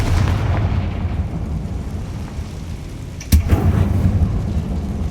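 Fire spell explosions in the video game Hogwarts Legacy, booming low and rumbling under ambient game noise, with one sharp, loud blast near the end followed by a rolling roar.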